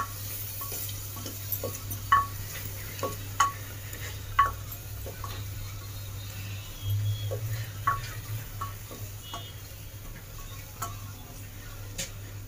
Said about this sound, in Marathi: मसाला मस्तपैकी फ्राय होतोय